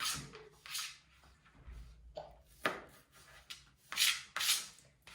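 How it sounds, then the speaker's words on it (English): Parsley being chopped with a knife on a cutting board in a home kitchen, a series of uneven, close scraping and chopping strokes with short pauses between them. "Cecilia's cutting the parsley and putting it in the bowl for us"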